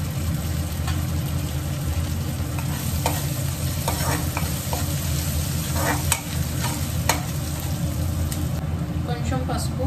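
Onions with ginger garlic paste sizzle steadily in a hot pan, a loud continuous frying hiss with occasional stirring scrapes throughout, no one talking.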